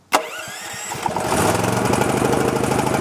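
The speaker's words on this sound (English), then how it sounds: "We'll get our generator started." A small portable generator engine on choke cranks with a few sputtering pulses, then catches and settles into a loud, steady running chug close by.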